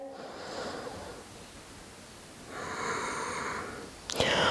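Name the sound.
Ujjayi breathing during yoga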